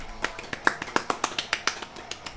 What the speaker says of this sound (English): With 42, golf clap.